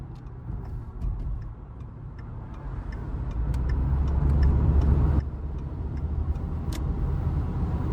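A Ford Focus driving on the road, a steady close rumble of engine and road noise with faint ticking clicks inside the cabin, no talk.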